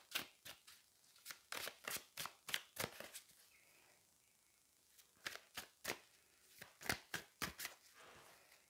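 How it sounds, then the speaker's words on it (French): Tarot cards being shuffled by hand, crisp rhythmic riffling bursts in quick runs with brief pauses between, close and fairly quiet, no talking. "Je vais mélanger un peu plus"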